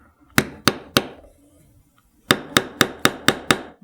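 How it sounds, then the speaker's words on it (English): A hammer strikes an awl to punch holes in metal hardware for a steampunk flower bracelet. Three sharp, ringing taps are followed by a pause, then six quicker taps, all close and clear. "You want to hold one side and then take your hammer."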